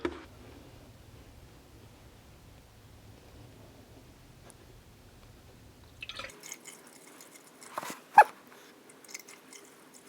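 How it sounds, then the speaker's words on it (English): Tap water trickles and drips into the plastic coolant tank of a Mazda Miata in a few brief, close splashes after a quiet stretch. "I'm going to put some water in there."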